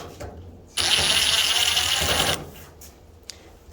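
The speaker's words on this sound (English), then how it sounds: "take the screwdriver, don't matter, whatever you wanna do. Take those things loose." A power screwdriver whirs for about a second and a half while backing out a screw on an LG gas dryer, a close, high-pitched motor buzz that starts and stops abruptly, with a faint click afterward.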